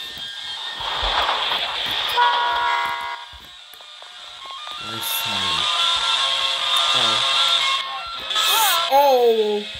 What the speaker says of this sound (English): He got hit by a train again.